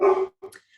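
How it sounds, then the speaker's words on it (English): A dog gives a single close bark followed by a shorter, softer yip, brief and sharp in an otherwise quiet indoor room. "you could probably hear my dog barking now."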